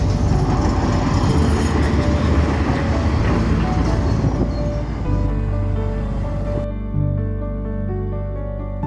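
Loud rumbling and rattling of a Soviet KTM-5 tram rolling past nearby in a Russian city, its roar steady before cutting off into a quieter, humming tone.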